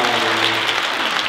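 An audience at a Korean art song concert claps for a poet in attendance, a brief, dense burst of applause heard close and loud, with a faint tonal hum beneath.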